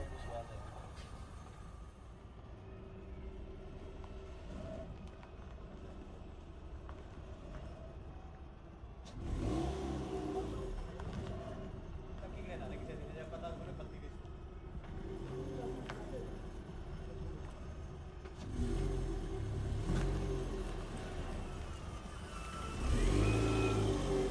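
A petrol car's engine hums steadily from inside the cabin during a road test drive, swelling twice as it accelerates, with a louder rev near the end and people talking over it.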